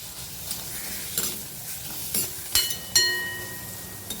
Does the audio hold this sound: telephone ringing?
no